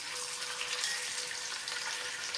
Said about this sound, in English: So you should have heard that sizzle.